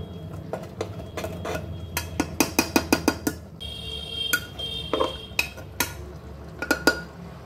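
A spatula scrapes oil and spices off the inside of a metal wok, making a run of sharp, rhythmic metallic scrapes and clinks up close, in bursts with short pauses.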